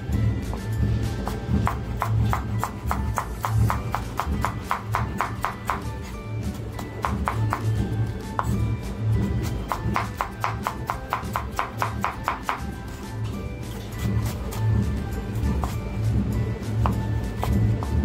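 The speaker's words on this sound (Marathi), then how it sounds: "टोमॅटो जो घेतलाय तोही असाच पातळ कापून घेते." A knife thinly slices a tomato on a board, producing quick bursts of close, crisp chopping taps in rapid runs separated by short pauses, over a steady low background hum.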